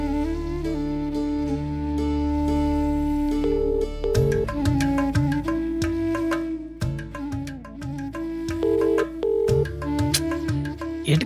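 A telephone rings during a call as a repeating electronic tone pattern, loud and steady, with a rhythmic tune cycling throughout and no voices.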